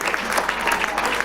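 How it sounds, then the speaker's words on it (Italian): Crowd at the Walter Frau stadium applauding during an Eccellenza football match between Ossese and Nuorese, a brief spread of clapping heard at a distance with rhythmic bursts over a steady crowd murmur. "Applausi del pubblico del Walter Frau per questo tentativo"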